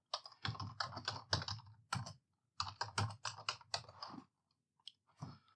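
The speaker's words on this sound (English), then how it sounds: "So to do so, I type pip." Rapid bursts of computer keyboard typing in a Linux terminal while entering a pip install command for Python dependencies, close and crisp, in several clustered runs separated by short pauses.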